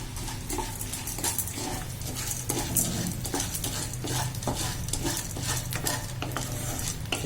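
Corn kernels being stirred in a pot for popcorn: a continuous dry rattle and scrape of kernels and spoon against the pot, close and busy, with a light sizzle beneath and no talking.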